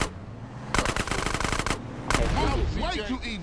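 Rapid machine gun fire in the video game GTA San Andreas rattles out in a dense burst, then a second short volley follows, with someone talking over the shooting.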